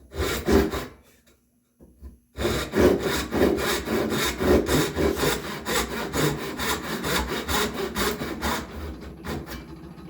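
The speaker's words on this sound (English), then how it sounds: "I'll take my dovetail saw" Dovetail saw cutting wood for shelf joinery on a spice rack, a close, steady rhythm of rasping strokes that starts, pauses about a second and resumes in a long run.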